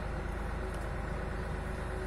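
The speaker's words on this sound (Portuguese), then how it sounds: "Parou agora um caminhão aí na frente aí." A truck stopped out front of a rural property, its engine idling with a steady low rumble, near and continuous with no talking.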